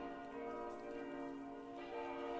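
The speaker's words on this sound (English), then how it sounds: "The bells of the old abbey still ring." Old abbey church bells in the video game Dark and Darker ring with sustained, overlapping metallic tones that hang evenly and resonate without pause.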